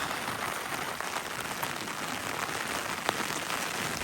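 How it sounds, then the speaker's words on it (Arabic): Steady rain pours down on hikers in the Aja mountains near Hail, a dense, even hiss of drops pattering on surfaces throughout, with no talk. "لا زلنا برمية صيحان والمطر تصب علينا"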